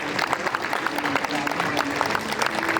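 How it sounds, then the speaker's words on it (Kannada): An audience applauding at the Karnataka State Skill Summit award ceremony in a hotel hall, a steady wash of clapping from a large crowd, with speech over it. "ಅವರ ನಮಸ್ಕಾರಕ್ಕೆ ತಕ್ಕ ಹಾಗೆ ಜೋರಾದ ಚಪ್ಪಾಳೆ ಬರಬೇಕು"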